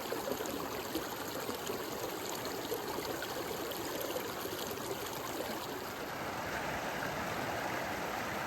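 Steady rushing and trickling of Rock Creek, near Cottonwood Pass, flowing continuously close by, with no voices.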